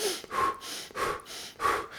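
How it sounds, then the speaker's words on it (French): Rapid, forceful breaths of a stress-relief breathing exercise with very short inhalations and exhalations. Loud, close and breathy huffs come in a quick steady rhythm, with no talking. "c'est 20 inspirations, expirations très courtes"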